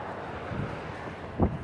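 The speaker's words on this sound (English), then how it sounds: "then the wind starts going" Wind gusts outdoors on a walk buffet the microphone in a continuous low rumble, with a brief louder puff near the end and no talking.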